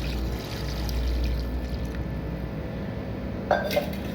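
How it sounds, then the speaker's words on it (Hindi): About two glasses of water poured into a pan of fried mutton karahi, a low steady wash under kitchen noise, with a brief clink of glass or metal near the end. "अब यहाँ पे मेरे पास 2 गिलास के करीब पानी है, वो शामिल कर देंगे"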